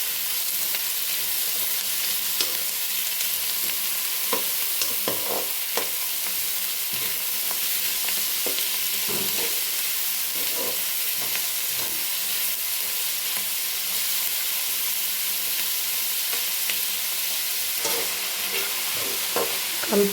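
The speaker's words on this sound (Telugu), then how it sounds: "ఆనియన్స్ను కలుపుతూ ఫ్రై చేయాలి." Onions fry in a pan while being stirred, a continuous loud sizzle and hiss with scattered scraping clicks from the spoon throughout, no voices.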